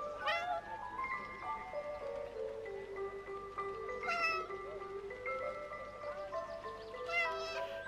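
A cat meows repeatedly in the video game 11-11 Memories Retold, several drawn-out, wavering cries rising and falling over soft background music, fairly close and clear.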